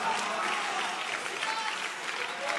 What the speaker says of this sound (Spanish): Dele ese aplauso fuerte a la gloria de Dios.